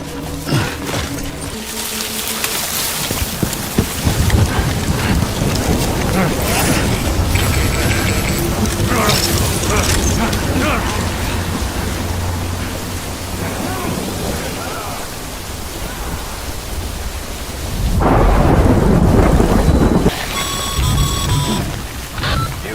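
Steady rainfall hisses through a stretch of Death Stranding gameplay, with a thunder-like rumble and a louder surge of downpour near the end, and a voice speaks over it.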